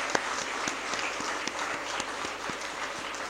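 An audience at a school event claps for teachers and children, a dense spread of hands with a steady, rhythmic beat running through the noise at moderate volume.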